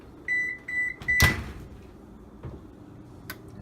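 Trays of food going into a home oven: a few short beeps from the oven panel, a loud clunk of the door or rack, then a quiet click and another short beep, alone in a still kitchen.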